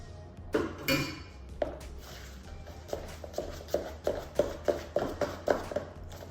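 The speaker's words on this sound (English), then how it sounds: "Give that a good mix around." A spoon or whisk beats vanilla buttercream in a bowl with a steady run of soft, regular clinks and knocks against the side. The strokes are close and moderately loud, with no voices.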